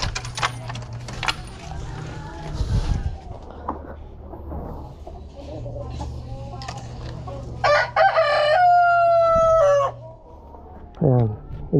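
A Rhode Island rooster crows loudly and close by, one long drawn-out call near the end, while chickens cluck and scratch around it during medicine-dosed drinking at a farm coop.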